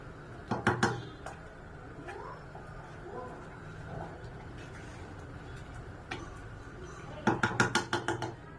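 Urad dal jaggery payasam is stirred in a pot, sharp metallic clinks of a ladle against the rim in quick bursts at the start and end, with quieter scraping between, no talk.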